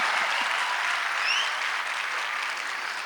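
Steady applause from a crowd at a comedic Hindi poetry gathering at Bharat Mandapam, a dense, continuous clapping that holds at an even level for about three seconds, with no speech over it.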